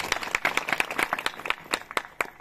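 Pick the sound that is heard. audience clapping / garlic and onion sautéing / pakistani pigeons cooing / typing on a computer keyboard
audience clapping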